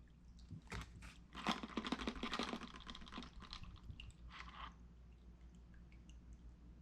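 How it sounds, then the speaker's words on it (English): Black oxide solution drains out through the holes of a lifted hardware container, a faint trickling, dripping patter that is busiest early on and then thins to scattered drips. "if I slowly lift this up, you can see and hear that super clean draining out of there"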